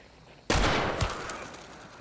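A single loud gunshot from a Scottfield Spitfire in the video game Hunt: Showdown, an abrupt sharp crack with a long decaying echo and a faint secondary thump shortly after.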